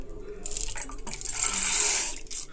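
Lentils are dropped into water in a pot, giving a soft splash and patter followed by swishing, clinking water movement. The sounds are close and moderately quiet.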